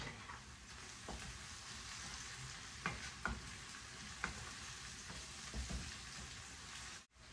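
Whole spices fry in oil with a quiet, steady sizzle and occasional soft clicks of stirring, then cut off abruptly.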